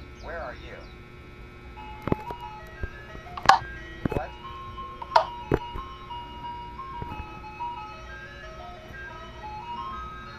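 Siren Head's ice cream truck call in a video game: a tinny, stepping chime melody plays over a low hum, punctuated by several sharp, loud percussive hits at intervals.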